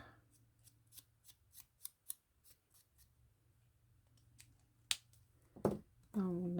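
Scissors cutting paper shapes for a collage in an altered book: a steady run of crisp, close snips at an even rhythm, then a few louder snips and a short burst of voice at the end.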